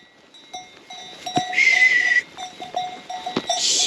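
A flock of sheep and goats grazing in a grassy field, with clanking bells and scattered bleats, one long bleat standing out close by, plus a whistle-like tone in the open air.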